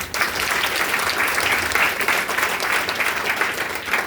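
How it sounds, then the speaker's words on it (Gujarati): An indoor audience claps loudly and steadily, a dense wash of applause that keeps going with no letup. "એના માટે એકવાર જોરદાર તાળીઓ"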